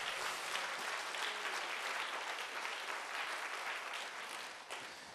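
A church congregation applauds during a Wednesday worship service, dense sustained clapping from many hands filling the room, steady and even before tapering slightly at the end.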